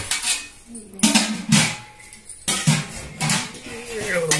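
Pot lids and dishes clatter and clank in a home kitchen, a series of sharp metallic knocks and scrapes in irregular bursts, close and fairly loud, with brief voices in the background.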